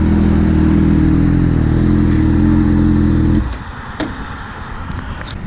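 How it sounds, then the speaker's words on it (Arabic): A 2008 Honda Hornet 600cc fuel-injected motorcycle engine runs with a loud, steady low throb close by for about three seconds, then cuts off, leaving faint background noise and a few light clicks. "ده موتوسيكل هوندا هورنت 2008. ده 600 سي سي انجكشن"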